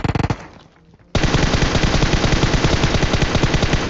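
Video game M4 rifle fire: a short rapid burst, a brief pause, then a long sustained automatic stream of loud, close shots with no talk.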